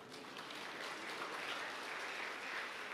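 Steady, dense applause from a church congregation at a Pentecost service, continuous clapping without pauses, heard somewhat distant and soft.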